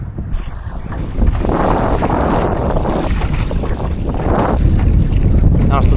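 Strong wind buffets the microphone aboard a small reefed SCAMP sailboat at sea, a loud steady roar with gusting rumble and water noise throughout, no talk.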